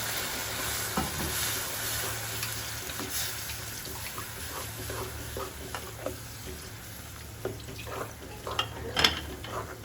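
Oil sizzles steadily in a frying pan, with scattered clinks and scrapes of utensils over several seconds.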